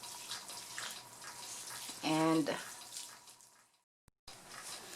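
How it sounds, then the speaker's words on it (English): Plain water is poured as a rinse over newly planted cabbage seeds: one short, gurgling splash of pouring in the middle of a quiet stretch, with a faint voice before it. "here is the rinse, which is plain water"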